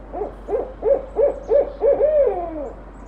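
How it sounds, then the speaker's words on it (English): A barred owl call plays from a bird sound app: a run of six rhythmic hoots ending in a drawn-out descending note, clear and fairly close with nothing else over it. "So that's barred owl."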